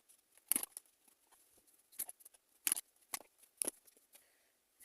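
Tarot cards being shuffled and drawn make a handful of quiet, crisp riffling flicks and snaps, spaced irregularly against near silence, close by with no talking.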